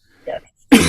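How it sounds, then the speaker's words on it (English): A single short cough at close range, a brief muffled burst followed by silence, then a louder rougher cough-like burst at the end, from a person on a talk show. "excuse my cough there"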